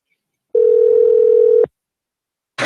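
A single steady telephone ring tone sounds for about a second, loud and clean, from a call that goes unanswered, followed by silence and the start of a recorded voicemail greeting.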